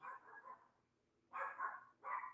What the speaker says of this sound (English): This damn dog better stop barking.